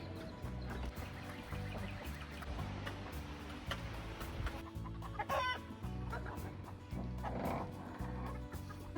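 Backyard chickens cluck and murmur inside their coop, with repeated low clucks and short calls overlapping in a busy, close flock chatter and occasional sharper squawks.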